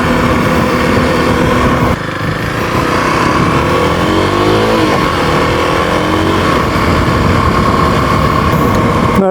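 A cheap used 250cc six-speed motorcycle engine runs loud and close, revving up and down through the gears with rising and falling tones over a steady drone.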